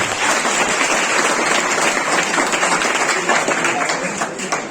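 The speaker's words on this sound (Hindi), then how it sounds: "जोरदार ताली।" Loud, dense applause from a school seminar audience, many hands clapping steadily at close range for the whole moment before tapering slightly at the end.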